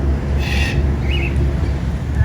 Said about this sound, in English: The Regent parrot.